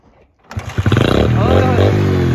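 A vehicle engine starts up and revs, rising into a loud, rough, throaty idle with a fast pulsing beat close by; a person talks over it.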